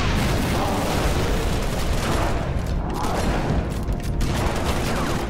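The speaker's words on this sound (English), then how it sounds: "Yeah, here, have a grenade." Grenade blasts and gunfire from a Halo: Reach battle, a dense continuous barrage with booming impacts and crackling shots sustained at high level throughout, no talking.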